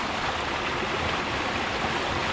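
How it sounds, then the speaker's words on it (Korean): Cool mountain valley stream flowing through a dense forest, a steady, full rushing of water heard close and continuous with no break. "시원한 물줄기가 정말 좋은데요."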